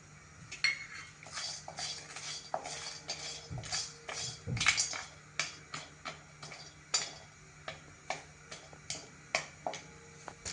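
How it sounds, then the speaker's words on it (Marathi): Whole spices, cloves among them, dry-roasting in a hot kadhai with no oil, a quick series of close metallic scrapes and clinks as they are stirred, growing more regular toward the end. "पहिल्यांदा हे खडे मसाले टाकते,"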